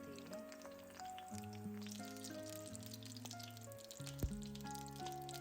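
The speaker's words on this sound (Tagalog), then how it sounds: "habang nagluluto tayo o nagpiprito ng talong" Steady crackling sizzle of eggplant frying in hot oil, continuous throughout, with music playing over it.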